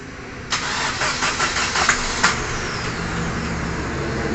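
An Opel Astra engine cranks repeatedly with a whirring starter that doesn't catch, loud and close, followed by a steady mechanical hum.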